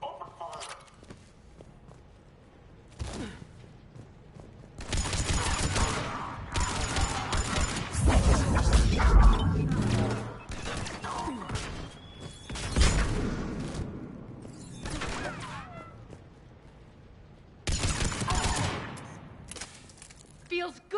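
Bursts of gunfire in the sci-fi shooter Mass Effect 3, loud rapid volleys arriving in several separated clusters with quieter gaps between them, mixed with footsteps and mechanical clatter, while voices speak at times.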